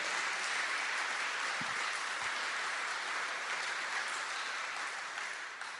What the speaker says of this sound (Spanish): Démosle un fuerte aplauso a Jesús, hermanos.